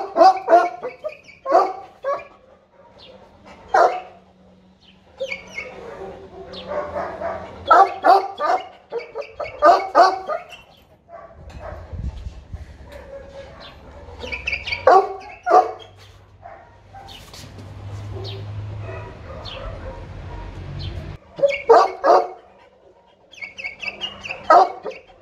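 A frightened Tibetan mastiff barks in short, loud bursts that come in uneven clusters, with quieter gaps between them and a low rumbling background noise in the middle stretch.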